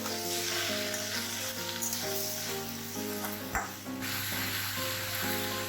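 Cumin seeds and green chillies sizzling in hot oil, a constant close hiss with a spatter or two, mixed under a steady stepping melodic tone, no voices.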